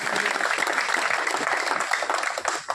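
An audience at a Hindi-speaking community council gathering claps for an honoured guest, a dense, continuous burst of applause that stays loud and even, fading slightly at the end.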